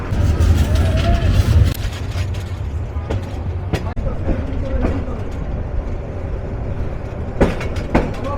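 The 782 Kishoreganj Express train at Methikanda station in Narsingdi gives off a loud low rumble with intermittent clanks and mechanical knocks, and faint voices can be heard in the background.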